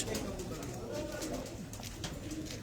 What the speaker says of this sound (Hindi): ये आपने देखी ये कबूतरी है जी